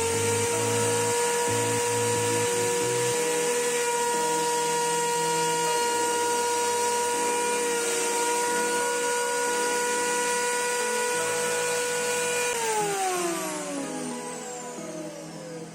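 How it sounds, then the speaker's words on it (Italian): A router table with a rounding bit trims the edge of a wooden kitchen cutting board, a loud steady high-pitched whine holding for about thirteen seconds before spinning down as the motor stops. "andare a rifilarlo nuovamente con il nostro banco a fresa non è un'operazione sbagliata, quindi mettiamo una punta, diciamo, per stondature"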